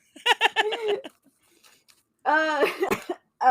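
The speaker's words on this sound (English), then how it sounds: "Cough." A couple of coughs with vocal sounds, then a louder burst of voiced, laugh-like coughing; short quiet gap between them.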